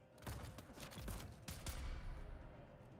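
An automated turret firing in Dune Awakening, a quiet burst of repeated rapid shots with distinct sharp cracks, set somewhat back in the game's soundscape.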